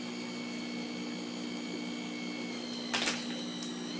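An electric hand mixer blending cake batter at a higher speed gives a steady, even mechanical whine that holds unbroken throughout, with a brief clattering burst near the end.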